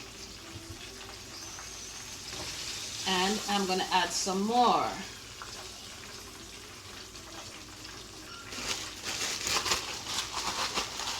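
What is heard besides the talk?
chicken frying in oil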